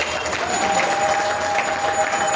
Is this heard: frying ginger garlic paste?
no